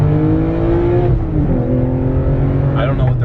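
A BMW E92 328i with the N52 inline-six revs up toward its 7,500 rpm redline, a steady loud engine drone with a pitch dip and climb partway through, heard close with faint voices underneath.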